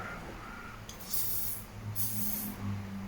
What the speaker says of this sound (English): get a little bit of WD-40